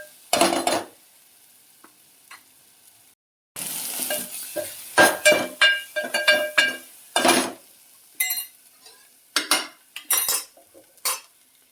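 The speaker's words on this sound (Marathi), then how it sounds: "ते दोन चमचे टाकू व्यवस्थित मिक्स करू" Chicken and masala stirred in a pan: a spoon scrapes and clinks against the metal in quick irregular strokes over a low sizzle, loud and close, with a short silent break early on.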